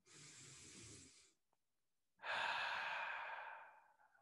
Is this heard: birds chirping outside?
no